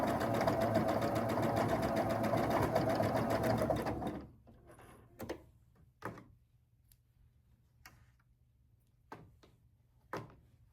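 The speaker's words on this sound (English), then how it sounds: "then I'm going to sew these together" Domestic sewing machine stitching quilt block pieces together, a steady close whirring run of about four seconds that stops, followed by a few scattered soft thumps and fabric handling.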